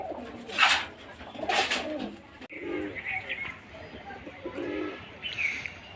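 Giribaz pigeons coo in a loft, with two close, soft throaty coos early on, then a quieter run of cooing and faint chirps under a low, murmuring background.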